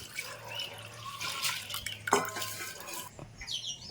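Water pours into a bowl of soaked lentils, a close, quiet splashing and trickling with faint clinks of the bowl, no talking.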